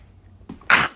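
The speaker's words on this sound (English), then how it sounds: "just coughed up mucus" A single close, wet, phlegmy cough bringing up mucus, preceded by a brief throat sound, in an otherwise quiet room.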